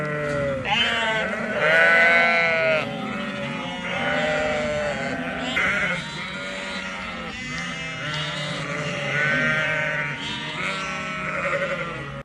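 A flock of sheep being moved in the evening bleats loudly and almost continuously, with many overlapping calls rising and falling close by.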